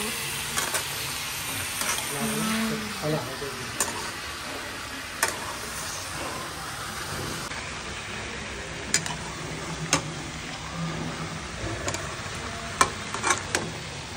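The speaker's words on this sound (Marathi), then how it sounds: "इथे आपण त्याला आलटी पलटी करत आहोत" Food sizzles in a hot pan while a utensil scrapes and turns it, with sharp clicks and taps against the pan scattered throughout.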